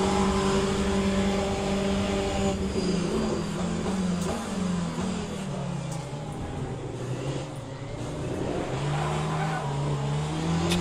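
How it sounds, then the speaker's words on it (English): Race car rear tyres spin and squeal through a drift in the Le Mans Ultimate sim, a steady loud engine drone with rising and falling pitch sweeps and continuous tyre noise near at hand. "Lighting up the rear tyres, holding on to that position."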